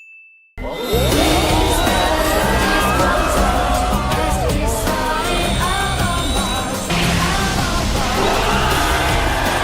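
A massive roaring crowd in the anime Kill la Kill, loud and sustained, erupting after a brief tone and carrying dense cheering and yelling with clanging accents throughout.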